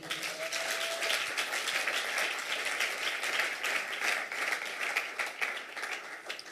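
A congregation applauds during a French-language church service, a steady broadband wash of many hands clapping at even loudness throughout, with no voices standing out.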